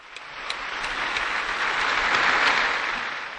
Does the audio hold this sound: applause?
yes